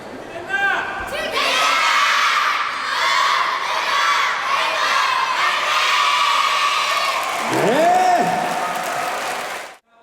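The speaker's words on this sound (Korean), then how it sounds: "각자의 구호로 소개하고 우렁찬 함성으로 화답합니다" About 500 youths at a joint arts camp festival roar loud cheers and shouts as each participating group is introduced, a dense, sustained crowd din with high children's voices that cuts off abruptly at the end.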